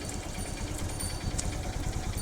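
A motorcycle engine runs on a city street, a close, low, steady throbbing with a faint rhythmic pulse and no talking.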